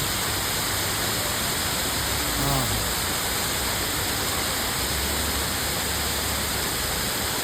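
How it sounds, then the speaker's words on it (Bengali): Bakthang Waterfall near Gangtok, Sikkim: a steady, dense rush of falling water fills the whole stretch at an even level, with a faint voice briefly audible beneath it. "এই হচ্ছে ফলসটা, ঠিক আছে।"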